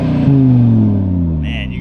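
An Audi RS3 with a modified exhaust revs in normal drive mode, a loud, close engine note that climbs and then slowly falls away, with a brief higher hiss near the end.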